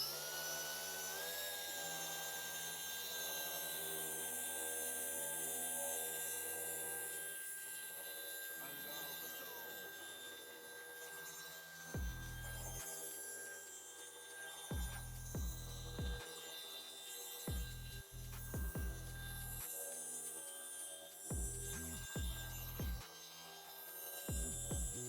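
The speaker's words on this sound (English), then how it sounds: "So I'm going to do this on speed setting 2 and on the DIY detail polisher" A DIY Detail dual-action polisher running on speed setting 2 while correcting car paint, giving a steady whirring drone through the clip, with brief thumps and bumps toward the end.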